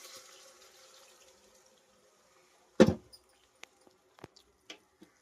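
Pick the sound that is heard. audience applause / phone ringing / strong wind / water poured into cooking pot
water poured into cooking pot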